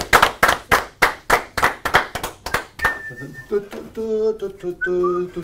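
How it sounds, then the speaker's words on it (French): Audience at a French stage show claps in a steady rhythmic burst, then several loud whistles ring out over the applause as it fades, with voices calling in the crowd. "Mesdames, messieurs, applaudissements pour Lulu de Villeurbanne, s'il vous plaît."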